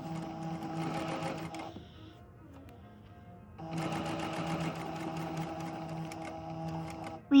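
A sewing machine stitches fabric for a kick pleat with a steady, close, fast mechanical whir, pauses for about two seconds, then runs again evenly and ends with a short clunk.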